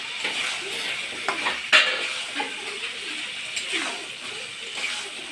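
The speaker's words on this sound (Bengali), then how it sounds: "আমি 5 থেকে 6 মিনিট কষে নেব।" Desi village-style chicken sautés in a pan with a soft sizzle under intermittent scraping stirs and occasional clinks of a spoon on the pot. Faint voices can be heard in the background.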